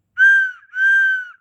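A simple toy whistle is blown twice, two clear sustained shrill tones of similar length separated by a brief breath gap, loud and close.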